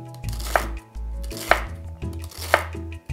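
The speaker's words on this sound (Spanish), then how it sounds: "El apio también lo rebanamos finamente." A knife slices celery finely on a cutting board, giving three crisp, evenly spaced chops about a second apart over a low steady hum, close and clear, with no voices.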